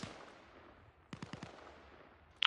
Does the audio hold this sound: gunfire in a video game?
yes